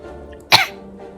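Single harsh cough from a character in the video game Slay the Spire, a short loud burst standing out against quiet game background.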